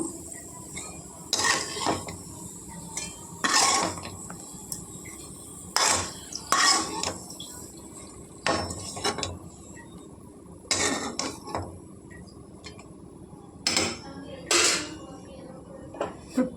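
A ladle scrapes and clinks against a metal cooking pan as fried lentils are lifted out, sharp intermittent metallic knocks and scrapes spaced over a quiet background of soft kitchen noise.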